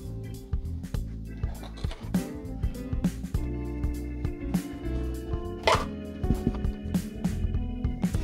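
Corn and carrots are sprinkled into a cottage pie cooking pot with onions, giving a faint run of small soft plops and patters, close and unhurried.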